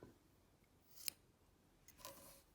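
Scissors snipping yarn while making a pompom, two quiet separate cuts, a sharp snip near the middle followed by a softer rustling cut, alone in a quiet room.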